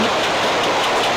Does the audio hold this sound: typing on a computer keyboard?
no